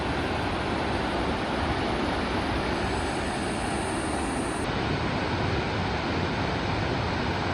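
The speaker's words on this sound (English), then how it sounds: "I'm at Shoshone Waterfall." Shoshone Falls roars as a dense, unbroken rush of water, loud and steady throughout with no voices.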